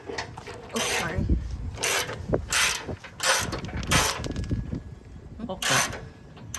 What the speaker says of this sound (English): So we just finished screwing that bolt in, and we already tightened these bolts.